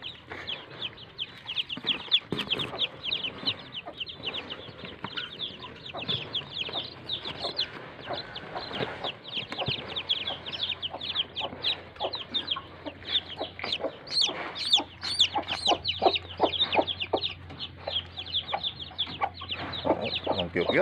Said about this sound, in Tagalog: kunin natin ang mga sisiw mga idol